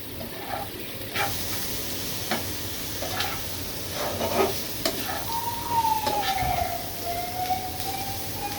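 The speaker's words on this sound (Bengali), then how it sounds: "এই চুলায় আমার করলা ভাজিটাও প্রায় হয়ে আসছে।" Bitter gourd (karela) bhaji frying in a pan on a home stove, a steady low sizzle with occasional stirring scrapes, while a faint siren wails in the distance partway through.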